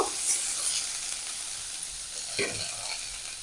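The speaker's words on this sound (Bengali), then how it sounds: "এবার ওর ভিতর দিয়ে দেবো এই সেই খোসা চাল কুমড়ো ভালো করে গ্যাস চুয়ে খোসাটা ভালোভাবে ভেজে নেব" Ash gourd peel frying in a pan with garlic, a steady close sizzle and hiss throughout, with a brief stir or scrape near the middle.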